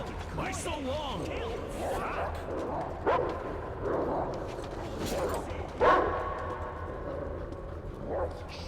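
A dog in the post-apocalyptic shooter game Metro Exodus barks and whimpers in short yelps over game ambience and background voices, with a few sharper louder yips standing out.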